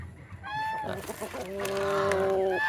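A seven-month-old Rhode Island Red rooster nearby gives a few drawn-out, tonal clucks and calls in quick succession, loud and close, with a low background hum.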